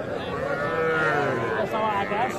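Young bull calves at Aftabganj cattle market give a drawn-out moo with a wavering pitch, followed by shorter calls, amid market chatter in the background.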